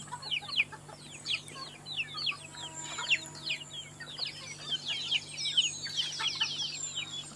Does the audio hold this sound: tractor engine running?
no